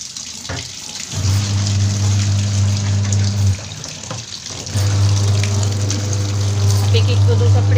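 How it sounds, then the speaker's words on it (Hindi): Water filling a washing machine, a loud steady rush with a low droning hum that drops out briefly midway and then resumes, with voices in the background. "मशीन में पानी लगा दिए हैं"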